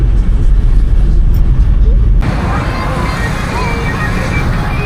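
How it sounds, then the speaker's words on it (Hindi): Steady mixed night traffic on SG Highway in Ahmedabad, a continuous loud roar of passing cars and other vehicles heard from inside or beside the road, with the rumble shifting tone partway through. "एसजी हाईवे के रात के दौरान ऐसा ट्रैफिक, मिला जुला ट्रैफिक दिख रहा है यहाँ पर अभी"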